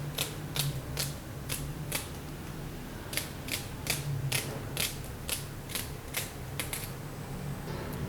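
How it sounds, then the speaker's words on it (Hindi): A knife chops onion into long strips on a cutting board, a steady series of sharp, close knocks in quick rhythm with brief pauses, alone and without talk. "प्याज को हमने काट दिया है।"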